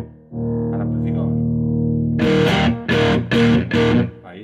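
An electric guitar runs through a Boss Metal Zone distortion pedal at high gain: a long sustained note first, then several loud, heavily distorted chord stabs, close and full.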